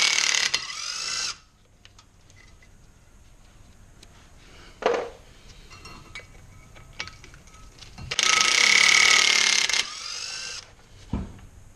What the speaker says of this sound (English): go ahead and undo the bolts that are holding the hub to the rotor